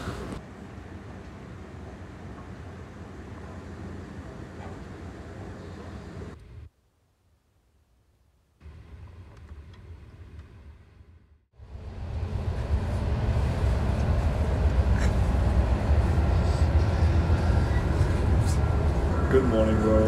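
Inside a moving train in Sweden, a steady low rumble with a brief drop to near silence, then a louder, harsher running roar, and a voice talking over it at times.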